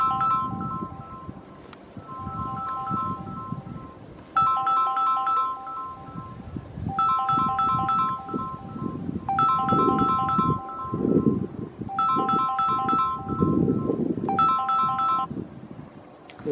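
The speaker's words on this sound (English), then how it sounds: "my phone is ringing." A mobile phone ringtone plays a repeating electronic melody in about six short bursts over a hiking trail near Tepoztlan, Mexico, sounding above a low outdoor rumble of wind and footsteps.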